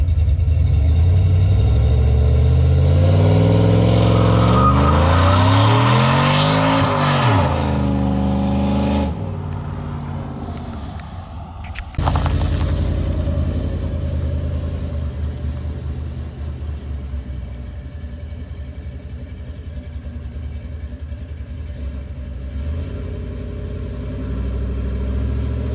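A cammed GMC Sierra truck fitted with larger injectors and a Circle D stall converter revs hard, its rising and falling engine note climbing up close before cutting off, then settling into a loud, steady lumpy rumble as it drives on.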